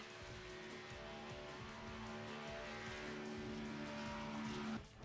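Stock cars lapping Talladega in a sim racing game: a dense, sustained engine drone with steady tonal whine from a pack of cars, constant and fairly loud, cutting off abruptly near the end.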